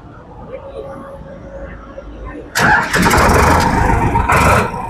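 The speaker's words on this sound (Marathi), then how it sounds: "या ट्रॅक्टरचा आपल्याला साऊंड ऐकायला भेटेल" A Sonalika 745DI tractor's diesel engine cranks and fires midway, jumping from a quiet, low background into a loud, steady, close-up rumble that holds to the end with slight pulsing.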